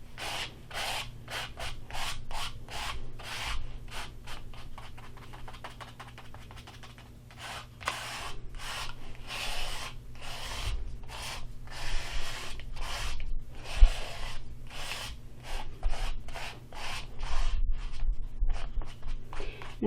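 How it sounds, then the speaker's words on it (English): Paint scraped across a surface with a credit card or gift card: repeated short dry rasping strokes in an uneven rhythm, close and fairly quiet. "I'm going to take a credit card or a gift card, and I'm going to go ahead and just scrape my paint over this."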